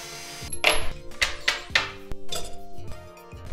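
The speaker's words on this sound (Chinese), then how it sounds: "拧下4颗贯穿螺丝" Four through-bolts being unscrewed from a rusty, flood-damaged Bosch car alternator, heard as a close series of metallic clinks, taps and tool knocks with short ratcheting scrapes in an uneven rhythm.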